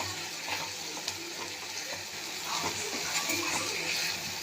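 Masala with ginger-garlic paste sautéing in a pan, a soft continuous sizzle with occasional stirring scrapes, fairly quiet and close.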